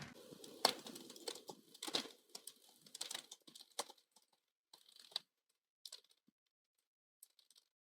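Quiet, sparse clicks and taps of keys on a computer keyboard while Java code is typed, in short bursts with pauses, thinning out toward the end.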